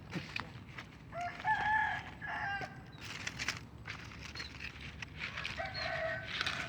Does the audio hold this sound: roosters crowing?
yes